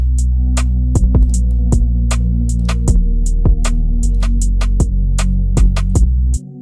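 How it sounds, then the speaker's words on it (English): A rim-style snare sample from the Ignite multi-kit clicks in a steady, repeating pattern within an R&B beat built in FL Studio, layered over a loud, droning low bass. "like kind of a rim snare. This snare is from the Ignite multi-kit"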